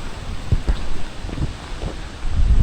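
Strong storm wind buffeting a microphone on a bikepacking ride through the Netherlands, loud low rumbling gusts pulsing irregularly and close throughout.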